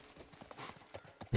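Horse hooves clip-clop in The Last of Us Part I, a few soft rhythmic hoof falls at a walk, faint and brief, ending with a louder thump.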